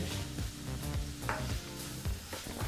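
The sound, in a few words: tomatoes frying in a pan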